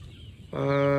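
Young chicks and chickens on a farm. After a short stretch of soft background noise, one bird gives a clear, close, tonal clucking call.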